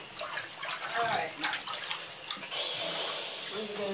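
Water splashes and sloshes in a bathtub while a Cairn Terrier is bathed, with irregular close splashes and a running-water wash underneath and a person talking quietly throughout.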